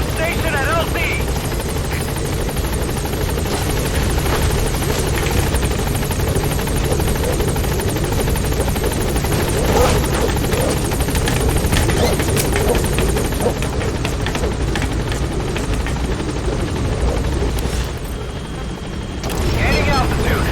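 Pequod transport helicopter from Metal Gear Solid V arriving at the landing zone, a loud steady rotor roar and engine buzz filling the whole stretch, with radio voice chatter over it.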